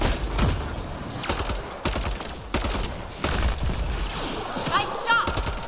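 Repeated bursts of gunfire in Mass Effect Andromeda during a combat encounter, several sharp volleys spread through the clip, with characters talking between and under the shots.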